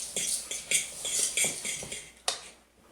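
Graham cracker crumbs being mixed with white sugar in a bowl, a spoon or utensil clinking and scraping against the dish in a quick irregular series of light strokes, close and alone, with one sharper clink near the end.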